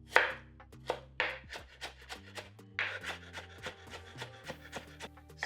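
A knife cuts a peeled inch of fresh ginger into strips on a board, a steady run of crisp, close chopping taps with short pauses, while soft background music plays underneath.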